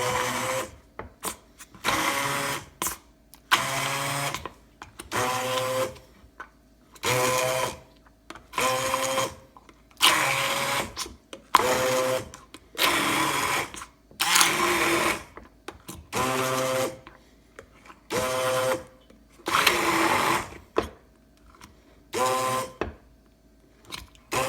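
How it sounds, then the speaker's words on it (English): An immersion blender whirs through dulce de leche in repeated loud bursts of a couple of seconds each, broken by short pauses, close by with no talking. "I'm going to use my immersion blender to blend it up"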